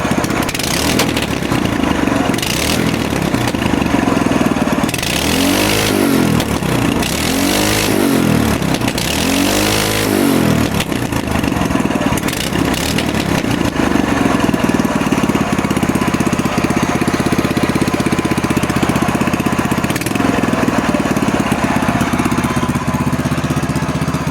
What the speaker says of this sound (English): The old, like, Briggs & Stratton Savory motor.